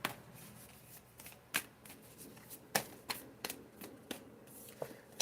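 An oracle card deck is shuffled by hand, giving a string of crisp riffling snaps and soft card slides at an uneven rhythm, close and fairly quiet, with no talking.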